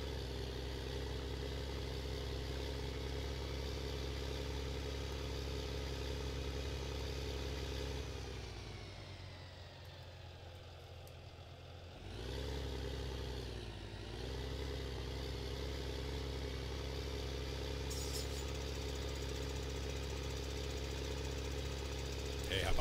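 A tractor engine in Farming Simulator 15 drones steadily, loud and continuous, dipping to a softer idle midway before revving back up, with a voice talking over it at times.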